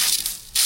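Mustard seeds hit hot oil for tempering sambar rice, giving a burst of close, bright sizzling and crackling that dips briefly and then flares again.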